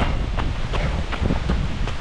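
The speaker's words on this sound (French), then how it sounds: "Oh, du vent." Wind buffets the microphone during a marathon run, a steady broadband rush with gusty swells and faint thumps of footsteps, no voices.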